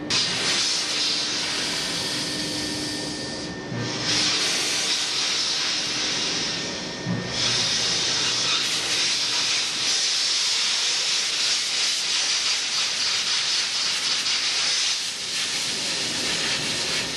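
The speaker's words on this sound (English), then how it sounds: "the Minimax allows you the freedom to be able to inject steam and clean out and blow out those" Minimax steam cleaner blowing steam for cleaning endoscopic equipment, a loud continuous hiss lasting the whole stretch with a few short dips where the jet briefly eases.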